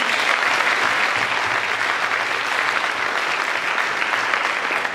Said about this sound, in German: Auch mal einen Applaus.